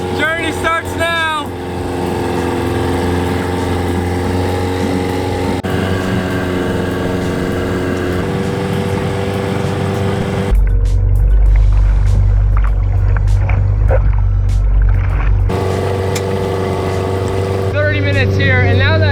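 An amphibious go-kart's engine drones steadily as it runs across open water on a Texas-to-Oklahoma trip, a loud continuous hum with splashing and rushing water joining midway, and voices talking over parts of it.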